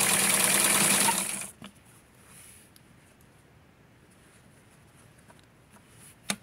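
A sewing machine stitching a small doll blouse runs with a steady, fairly loud mechanical whir for about a second and a half, then stops, leaving near silence broken only by a few faint taps and a small click at the end.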